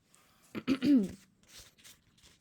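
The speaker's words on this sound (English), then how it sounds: "Sorry if I'm coughing throughout the video." A few rough coughs and a throat clear close to the mic, followed by quieter breathy sounds.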